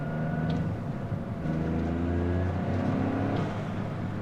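A 2023 Toyota GR Corolla engine pulls steadily under acceleration, a continuous loud drone heard from inside the car with rising tonal harmonics and road noise, no talk.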